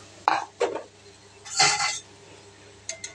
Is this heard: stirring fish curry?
yes